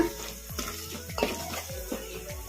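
A spoon scrapes and stirs through a turmeric tempering in a pan for garlic rasam, with soft rhythmic strokes repeating about every half second over a faint sizzle, close and fairly quiet.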